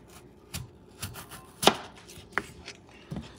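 A knife cuts steak into quarter-inch slices on a cutting board for a Puerto Rican style steak sandwich, with a few soft taps and one sharp, loud chop followed by a lighter knock, close up and unaccompanied.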